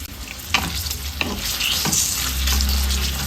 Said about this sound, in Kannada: 2 ಈರುಳ್ಳಿನ ಕಟ್ ಮಾಡಿ ಇಟ್ಕೊಂಡಿದ್ದೀನಿ. ಅದನ್ನು ಸೇರಿಸ್ಕೊಂಡು ಚೆನ್ನಾಗಿ ಫ್ರೈ ಮಾಡ್ಕೊಳ್ಳೋಣ